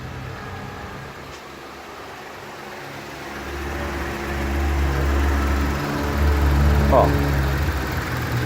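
Ford Edge engine idling smoothly, a steady low rumble that grows somewhat louder partway through, with a brief voice heard over it.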